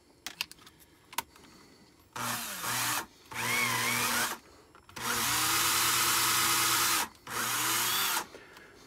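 A homemade roll crimper, driven by a power tool, crimps a plastic .410 shotshell: several loud sustained whirring bursts of one to three seconds, separated by short pauses, after a few faint clicks at the start.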